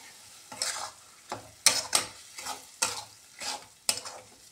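Spice masala being stir-fried in a pan for a desi-style jackfruit (kathal) curry, with about eight distinct scraping stirs at a steady rhythm over a low sizzle, close and fairly quiet.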